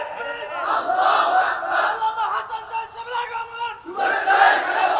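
A large crowd at a Bengali Islamic sermon gathering roars a takbir chant in unison, a loud sustained collective shout that swells, dips briefly, then surges again near the end.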